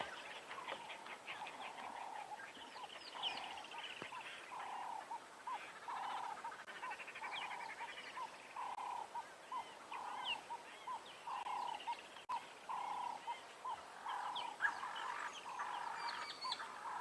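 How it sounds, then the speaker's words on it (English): Repeated agitated alarm chirping and calling from birds at a safari reserve at sunset, a steady run of short harsh notes going on and on at moderate distance, with no talking. "Sounds like there are some very unhappy birds around."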